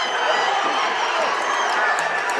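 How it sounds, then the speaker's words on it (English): A packed gym crowd at a high school varsity boys wrestling final roars and cheers wildly, a dense, continuous wall of shouting and whooping that holds steady throughout. "And the crowd goes crazy."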